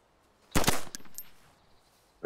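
Gunshots in DayZ Standalone: a sharp, loud shot with a second close behind, followed by a fading echo, then another sudden report at the very end.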